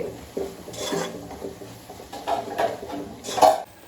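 Spice powders are stirred in a pan with a utensil, giving quiet, irregular scraping and clinking strokes close by, with a few sharper metallic taps.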